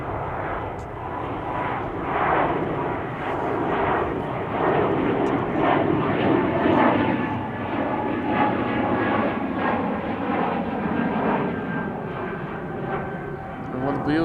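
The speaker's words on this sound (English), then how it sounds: "Croatia Airlines to Zagreb, another A220" A Croatia Airlines Airbus A220 departs Amsterdam Schiphol for Zagreb, its jet engines making a sustained roar that swells and holds over the whole stretch, with a voice talking over it.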